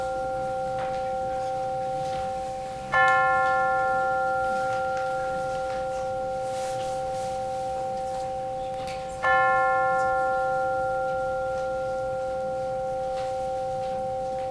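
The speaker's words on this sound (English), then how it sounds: "let us center our hearts and minds with the ringing of the chimes" Two bright chime strikes during a church service, several seconds apart, each ringing out and slowly fading over a faint steady hum.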